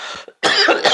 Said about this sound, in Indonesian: Tunggu, aku lagi batuk.